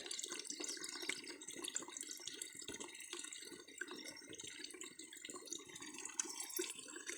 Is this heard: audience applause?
no